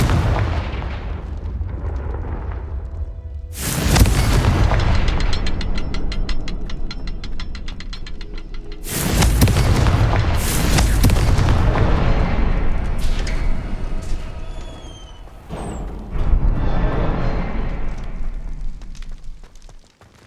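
Loud, heavy blasts from the Confringo fire spell in the Hogwarts Legacy video game, several booming bursts in a row over a dense rumbling game soundtrack with no speech.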